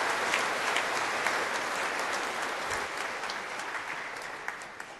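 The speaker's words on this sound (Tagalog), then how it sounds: "Palapakan natin si Lord." A church congregation at a Mass applauds, dense rapid clapping from many people filling the space evenly and fairly loudly, with a few sharper individual claps near the end and no speech.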